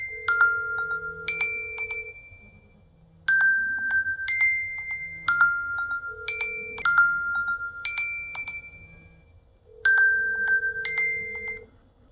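A TicWatch Pro 3 smartwatch rings with an incoming call: a bright, repeating chime melody plays in short bursts with brief pauses between phrases, clear and close with no talking.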